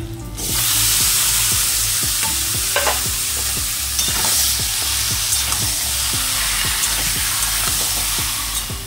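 Marinated chicken frying in a pan with lightly browned onions, a steady loud sizzle with repeated stirring scrapes and clicks of a utensil throughout, no voices.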